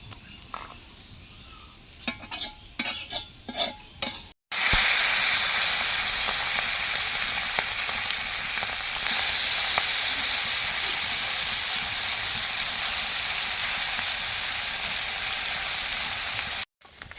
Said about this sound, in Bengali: মাছ ভাজা হয়ে গেছে সব